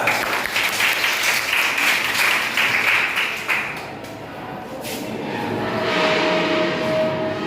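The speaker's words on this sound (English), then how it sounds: "Clap for her." A classroom of students claps for a classmate at a school quiz competition, loud and dense at first, then thinning out and fading into quieter room noise.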